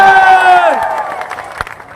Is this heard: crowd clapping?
yes